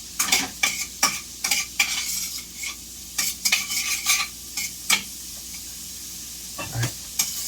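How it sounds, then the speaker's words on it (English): Onions tossed in melting butter in a pan, with repeated scraping and clattering stirs over a steady soft sizzle, close by, with gaps between strokes. "throw your onions in. All right, let's toss them around,"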